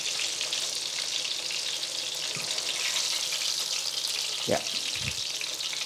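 Wiener schnitzel frying in hot oil on an outdoor terrace kitchen, a steady loud sizzle throughout with a few faint clinks and brief handling noises near the end.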